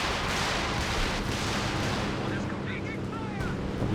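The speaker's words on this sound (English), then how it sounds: "Stuka barrage on the follow-up" Stuka dive-bomber barrage explosions in the World War II strategy game Company of Heroes 2, a dense rumbling roar of blasts and rolling impacts that stays loud throughout, fading slightly toward the end.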